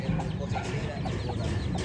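Chickens cluck repeatedly in a busy, close chorus at a village poultry farm with golden and Aseel breeds, short overlapping calls filling the moment.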